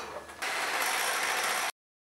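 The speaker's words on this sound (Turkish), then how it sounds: "Onu da şöyle mikserimle çırpacağım." A steady, high-pitched electric whir that starts abruptly, holds evenly for over a second, then cuts off sharply, as an electric hand mixer whips cream mixed with cold milk.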